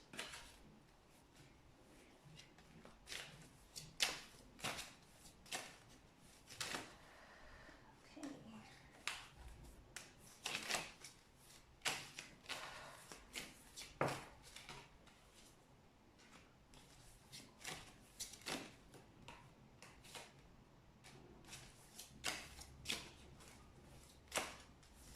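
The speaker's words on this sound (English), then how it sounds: "I'm also going to shuffle the original LiQWYD tarot deck." A tarot card deck is shuffled repeatedly at close range, quick papery riffles and taps coming in irregular bursts with brief pauses between them.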